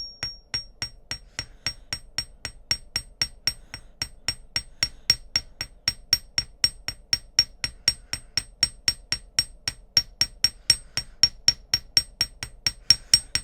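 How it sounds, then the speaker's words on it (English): A hammer taps a wire loop on a metal jewelry bench block, making a long string of evenly spaced, crisp metallic strikes. They are close and fairly loud, with no talking. "I'm using my bench block and my hammer"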